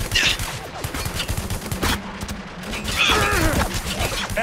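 Rapid bursts of gunfire in the video game Spec Ops: The Line, loud and continuous, with shouting soldiers' voices mixed in.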